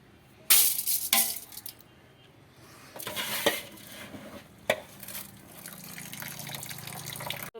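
Rinsed rice water draining and splashing through a metal sieve in a home kitchen while preparing idiyappam flour, with intermittent clattering handling bursts and a steady trickle, close and moderately loud without talk.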